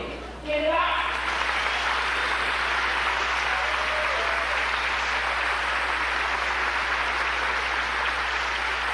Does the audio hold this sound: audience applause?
yes